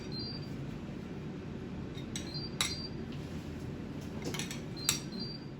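Soy sauce is mixed in a bowl with a utensil, giving a few faint clinks and taps of metal against the dish over a quiet room background, with no talk.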